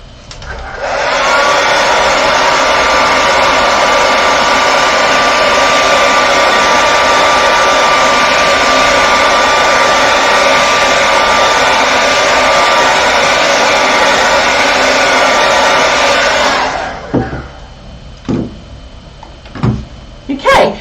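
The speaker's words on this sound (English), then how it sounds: "I'm going to grab my hairdryer and dry these off." A handheld hairdryer blows a loud, steady whooshing drone onto a freshly painted watercolour for about sixteen seconds, then clicks off, leaving a few soft knocks and handling sounds.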